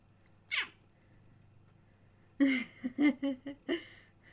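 A cat meows several times in quick succession, short plaintive calls close by, with a brief higher cry just before them over a quiet background hum.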